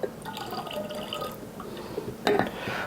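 Mead being poured back into a container, with soft liquid splashing and trickling through most of the stretch and a brighter burst of pouring near the end, mixed with faint background talk.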